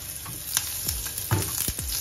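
Onions hit very hot oil in a pan with a loud, close sizzle and crackle, sharp pops and spatters rising over a steady hiss.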